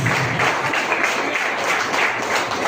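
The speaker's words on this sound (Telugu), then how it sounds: "Big round of applause." An audience claps at a Vestige business meeting, producing dense, continuous applause that holds at an even level throughout.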